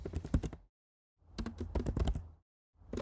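Bursts of fast typing on a computer keyboard come as clattering clusters of key taps, separated by a silent pause, close and crisp with no voices.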